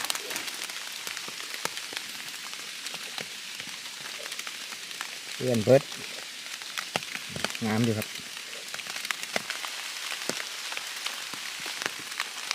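Steady rain patters down in a forest during mushroom foraging, a soft hissing wash that continues the whole time, with someone speaking briefly in the middle.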